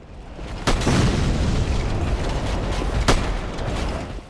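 A heavy, rumbling explosion in Dark Souls 3 erupts and sustains a roaring wash, with a second sharp burst a few seconds later, loud and close.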